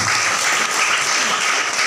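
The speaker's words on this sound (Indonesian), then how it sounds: "Tepuk tangan buat kita semua." Steady applause from a crowd at a business motivational seminar, a dense continuous patter of clapping that holds loud and even throughout without a break.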